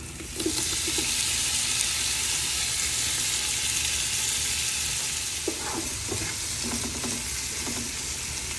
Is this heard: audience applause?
no